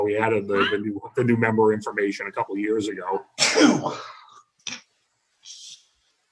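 A single sharp sneeze bursts out in a Senate Finance Committee executive session, cutting in after a stretch of someone speaking, followed by a brief quieter sound and a short faint noise.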